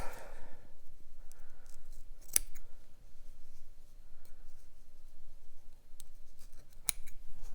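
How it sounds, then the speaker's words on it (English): Scissors snipping through wrapped yarn to free a small pom pom made on a fork, with sharp, close clicks and crisp cuts spaced irregularly over a quiet background. "Now I'll flip it over and cut the other side."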